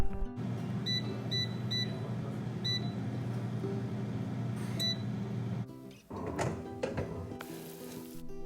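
An air fryer beeps several times as it is set to 390°F: short, high, clear beeps over a steady appliance hum, followed by soft clattering and handling sounds.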